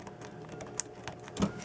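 A 1960 Olympia SG-1 standard manual typewriter with spring-loaded keys is typed on, giving light irregular key clacks spaced a fraction of a second apart and a couple of sharper, louder strikes, close up, with no voices.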